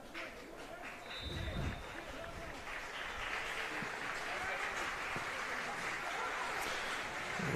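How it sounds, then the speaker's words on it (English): A pro-Tigers crowd at a men's provincial cup soccer final applauds steadily as a player leaves the field, a broad sustained clapping wash from the stands with some crowd noise throughout. "What seems to be a bit of a pro-Tigers crowd giving Zade a round of applause as he leaves the field."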